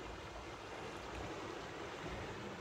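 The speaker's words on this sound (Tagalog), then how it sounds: "Ayun, lakas ng tubig niya ngayon eh." A strong river current rushes after a dam release in Korea, a steady, dense roar of flowing water close by with no pauses or voices.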